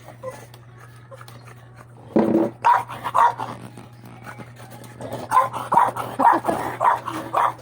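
A dog barks and growls in repeated bursts close by, quiet at first, then a run of loud barks, a pause, and another series.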